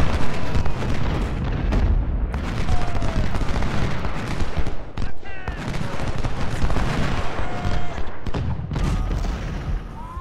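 Cannon artillery fire in the Civil War strategy game Ultimate General: Civil War, dense rolling booms and volleys of shots layered into a loud, continuous battle din.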